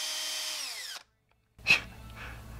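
A power drill bores into extremely hard wood, its motor whining loudly and then spinning down to a stop, followed by a pause and a short, sharp burst as the bit bites in again.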